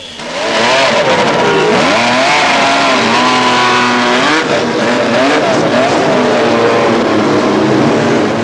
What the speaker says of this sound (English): the turbo Renaults are the most powerful cars